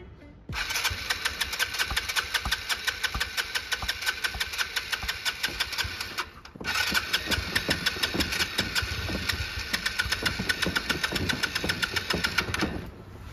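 A scooter engine being restarted after sitting through winter cranks and catches, then runs in a steady, loud, close idle with a brief cutout midway before running on again.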